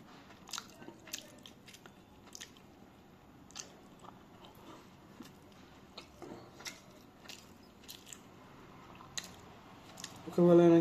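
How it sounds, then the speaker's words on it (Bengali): Someone eats Kolkata-style biryani from a plate, with soft, close crunchy bites and wet chewing repeating at an irregular pace under faint background noise, ending in a louder burst. "এবার আমি খাই একটু"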